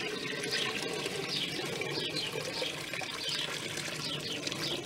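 Hot water pours into a vintage Hotpoint Countess washing machine, a continuous splashing, gurgling stream with rhythmic sloshing pulses, moderately quiet and close, without talk.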